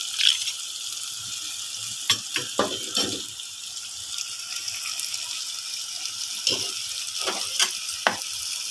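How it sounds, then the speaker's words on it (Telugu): Goat blood fry cooking in a pan, a continuous close sizzle broken by several sharp scraping and clacking strokes of a spoon against the pan, with no voices. "ఇది బాగా ఫ్రై చేసుకున్నాం"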